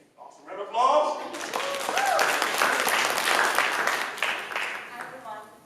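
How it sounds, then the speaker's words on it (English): Audience applause fills a leadership panel on the entertainment and sports industry, a dense, steady wash of clapping that swells quickly and holds for several seconds, with voices audible underneath. "Round of applause."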